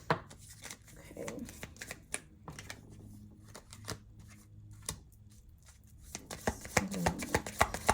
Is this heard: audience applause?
no